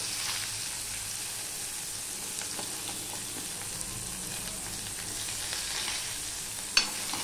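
A handful of onion goes into hot oil with panch phoron, sizzling in an even, continuous hiss with light stirring and one sharp click near the end.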